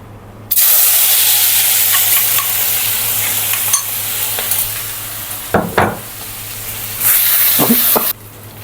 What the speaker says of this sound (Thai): น้ำพริกกับกระเทียมที่เราตำไว้นะครับใส่ลงไปเลย